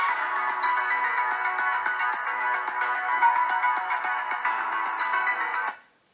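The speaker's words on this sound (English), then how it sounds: "we can see the new S8 stock ringtone" The stock Samsung Galaxy S8 ringtone plays from a phone speaker, a bright repeating electronic melody that holds steady for several seconds before fading out quickly.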